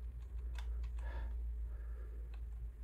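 Soft, faint key taps on a computer keyboard, a few scattered clicks over a steady low hum of a Linux computer setup, with no voices.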